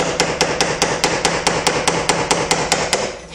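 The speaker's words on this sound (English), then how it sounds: "I'm going to take a punch, the same one I used before, and I'm going to take and put it on the end of the adjustment bolt and tap it lightly" A metal punch set on the adjustment bolt of a 1953-1962 Corvette steering gearbox is tapped lightly with a hammer, giving fourteen or so crisp, evenly spaced metallic taps close up, with no talk.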